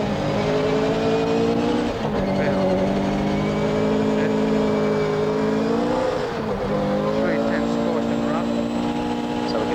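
A Fiat 131 Abarth rally car races a hillclimb stage at Mt Coot-Tha in the 1983 James Hardie Rally, heard from an in-car microphone, its engine droning loud and steady as revs shift, while voices talk over it.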